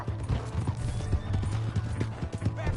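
Horse hooves clip-clop in a steady trotting rhythm in a video game, close and fairly loud, with faint creaks and no talk.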